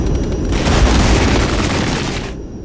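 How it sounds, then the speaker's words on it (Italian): An artillery bombardment in the wartime strategy game Regiments, with loud, heavy booms rolling together into a continuous barrage that fades out near the end. "Hanno chiamato anche loro il bombardamento."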